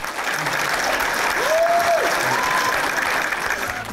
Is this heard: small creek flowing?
no